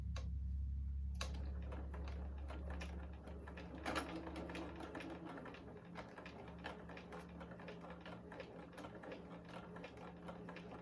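A sewing machine stitches piping onto fabric, giving a close, steady run of rapid mechanical ticking and whirring with a few sharper clicks, quiet and without talk.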